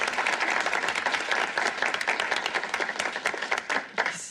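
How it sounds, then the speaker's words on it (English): Studio audience applause on a TV quiz show, a full, sustained burst of many hands clapping that stays steady for several seconds and then begins to thin out, with a voice briefly heard at the end. "Let's give them a nice round of applause."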